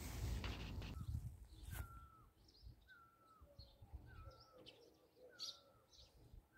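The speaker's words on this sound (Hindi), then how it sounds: "किसी पंछी की एक आवाज़ आ रही है।" A bird in the hills near Chaukori in Uttarakhand gives repeated short whistled calls at a steady pace, faint and distant, after a brief burst of rumbling wind or handling noise at the start.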